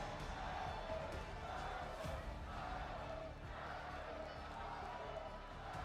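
A large crowd cheers loudly and continuously at an esports world finals event, a steady roar filling the space, with commentators' voices faintly mixed in underneath.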